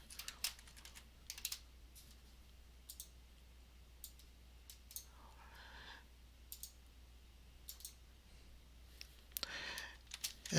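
Keys clatter on a computer keyboard in short, quiet bursts of clicks separated by pauses, as a heading is typed into a spreadsheet, with a faint steady hum underneath.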